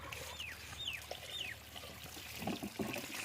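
Water pours from a watering can onto plants in a short splashing stream, with birds chirping and a distant rooster-like call in the background in a village.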